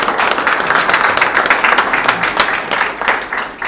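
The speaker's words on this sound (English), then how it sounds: "can we give them a round of applause, please?" An audience claps in steady applause for a handful of newcomers at a school academy gathering, a dense, continuous patter of many hands filling the room at close range without a pause.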